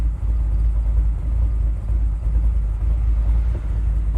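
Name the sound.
car engine idling through Flowmaster exhaust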